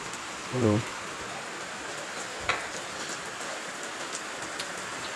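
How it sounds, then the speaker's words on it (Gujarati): Steady rain falls at the onset of the first monsoon shower, a continuous close wash of drops on surfaces with a brief low thump early on. "આ જોવો આવી ગયો વરસાદ"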